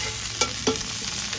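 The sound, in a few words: zucchini, onions and tomatoes sizzling, stirred with tongs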